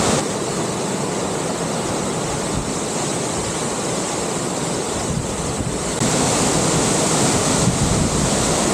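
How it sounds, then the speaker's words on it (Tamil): Kookal Falls waterfall in Kodaikanal, a steady broadband roar of rushing water with wind buffeting the microphone, constant and loud throughout, swelling slightly louder near the end. "கூக்கல் ஃபால்ஸ்ன்னு சொல்கிறாங்க அதை."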